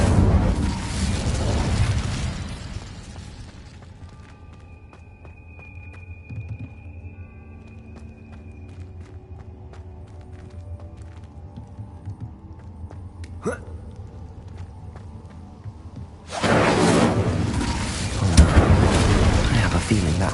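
The Incendio fire spell in Hogwarts Legacy bursts out as a loud, broad whooshing blast, falls away into quieter ambient tones with a sharp blip, then a second roaring surge of flame returns at the end.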